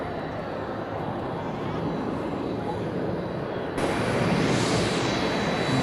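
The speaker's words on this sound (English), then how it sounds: "Vietnam Airlines HVN 384. He's come from Hanoi to Haneda." A Vietnam Airlines jet airliner, flight from Hanoi, at Haneda airport: a steady broadband engine roar that swells louder near the end, with a faint voice speaking underneath.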